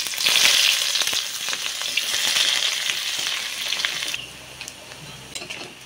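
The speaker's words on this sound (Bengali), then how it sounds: "এবারে দিয়ে দিচ্ছি পেঁয়াজ কুচি।" Chopped onions sizzle in hot oil tempered with cloves, cardamom, dried red chillies and cumin, a dense, steady hiss with scattered stirring clicks that drops to a softer sizzle near the end, with no talking.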